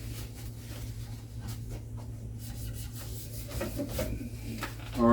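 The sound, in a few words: wiping loosened paint off a wooden end table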